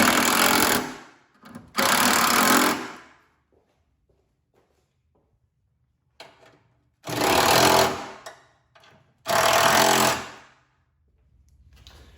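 A ratchet with a 13 mm socket tightens the top bolts to the core support of a Fiat 500 Abarth, heard as four loud, close bursts of rapid ratcheting separated by quiet pauses.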